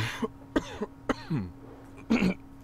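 Several short, harsh coughs and throat clears from one person, coming in uneven bursts close to the microphone with brief pauses between them.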